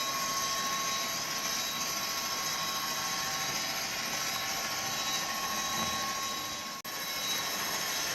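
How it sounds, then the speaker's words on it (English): Bachmann class 57 model locomotive (57009) running on a test track with its motor set to heavy load, giving a steady, continuous whining strain that holds evenly throughout with one brief dropout near the end. "You can hear it's got a straining sound, and what that is we've got it set on heavy load."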